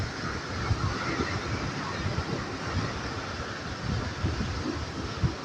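Big waves churning and crashing during Typhoon Carina, a dense, continuous roar of surf mixed with gusting wind buffeting the microphone, loud and steady with no clear pauses.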